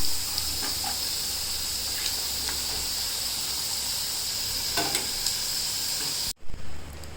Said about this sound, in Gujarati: બટેકા તરવા નાખી દઈશું પહેલાં.